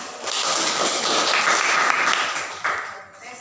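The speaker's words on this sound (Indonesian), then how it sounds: "Tepuk tangan ya teman kita" Audience applause from classmates after a group presentation on moral values and norms, a steady wash of clapping lasting a few seconds with some voices mixed in before it fades.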